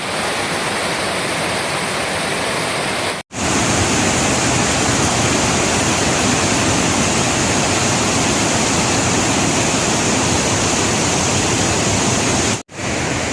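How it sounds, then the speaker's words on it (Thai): Saepong Lai waterfall on the Xe Pian river in Attapeu, Laos, pours over a cliff in a loud, steady, hissing roar that continues unbroken except for two brief cuts, with no voices. "จุดที่ น้ำไหลลงมาจากหน้าผา ซึ่งเป็นน้ำตกแซฟองลาย แม่น้ำเซเปียนของแขวงอัตตปือ"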